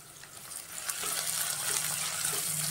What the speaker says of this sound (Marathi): आता कांदा चांगला सोनेरी रंगावर भाजून घेऊया